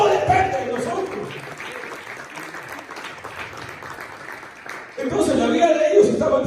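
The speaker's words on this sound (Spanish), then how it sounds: "Dele palmas al Señor." A church congregation claps for the Lord during a sermon, a burst of hand clapping mixed with a preacher's voice, which fades to murmuring talk midway before loud clapping and voices surge back near the end.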